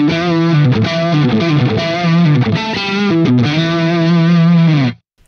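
A distorted electric guitar in single-coil mode plays sustained chords and shifting notes through a Friedman BE-100 amp plugin, loud and continuous, with a brief pause near the end.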